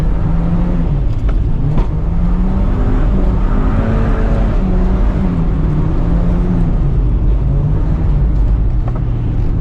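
Open-differential drift car revving hard at close range, its engine note rising and falling steadily while one wheel peels out, loud and continuous with no talk.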